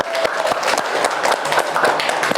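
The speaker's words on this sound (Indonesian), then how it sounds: "tepuk tangan lagi semuanya" Students in an Islamic primary school classroom in Banda Aceh clap together during a model teaching lesson, a dense, steady round of close hand claps with no talk.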